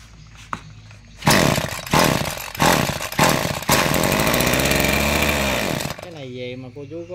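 The small petrol engine of a salvaged motorbike starts and revs in several short roaring bursts, then runs in a loud, steady buzzing drone before cutting out, with a voice speaking briefly at the end.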